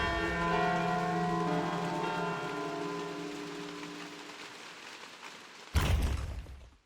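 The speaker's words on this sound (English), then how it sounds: "Once you reach the top of each path, you can finally ring the bell" A large bell in a video game tolls once, its rich metallic ring slowly fading, then a sudden loud thump cuts in near the end.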